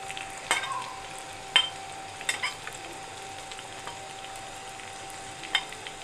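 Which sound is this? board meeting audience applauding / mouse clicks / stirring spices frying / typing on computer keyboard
stirring spices frying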